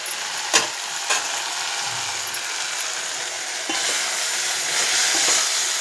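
Fish frying in hot oil in a pan, with a continuous hiss close by that swells louder partway through, plus a couple of light knocks early on.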